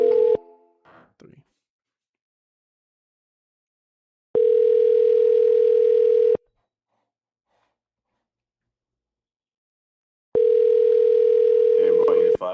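A telephone dial tone sounds while cold calls are placed, a steady flat hum in two separate bursts of about two seconds each, separated by silence, with faint breathing at the start.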